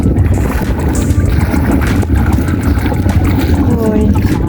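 Gusty wind blowing outdoors by water at a tilapia pond, a loud buffeting roar across the microphone that stays dense throughout, with a faint voice underneath.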